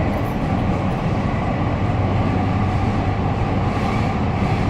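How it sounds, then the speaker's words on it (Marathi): A metro train rumbles steadily at close range as it begins to move, a continuous low roar of wheels and carriage with no voices. "मेट्रो आमची सुरू झाली आहे"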